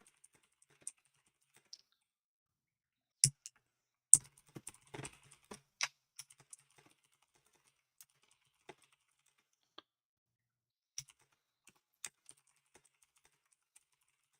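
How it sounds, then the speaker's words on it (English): Sparse keystrokes on a computer keyboard, scattered single clicks with a short burst of quicker typing in the middle, near and fairly quiet in an otherwise silent room. "And I just need to type something real quick. Wait, I heard the clickety clicks."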